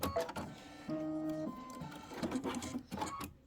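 A sewing machine stitches a pillow top with fine 80 weight thread, giving short mechanical whirring runs and clicks at close range, with quiet pauses between bursts.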